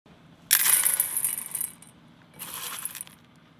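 Dried omija (schisandra) berries being poured and measured out by the ounce, two close bursts of light rattling and clinking, the first louder and longer, the second softer.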